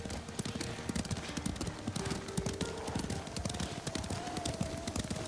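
Horses galloping in the video game Ghost of Tsushima, with rapid, steady hoofbeats close up throughout and a sustained musical tone running underneath.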